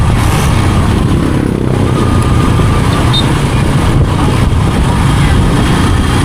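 A Sniper motorcycle engine runs loudly and steadily throughout, a continuous close rumble with no clear rev peaks, alone without talk.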